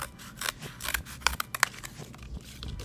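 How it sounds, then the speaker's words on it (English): Scissors snipping through paper pieces, a run of quick crisp cuts with a few sharper snips clustered in the middle, close and fairly quiet with no talking. "You can cut some rectangular pieces, and you could cut some triangle pieces."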